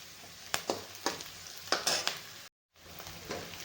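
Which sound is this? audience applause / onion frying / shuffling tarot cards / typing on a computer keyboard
onion frying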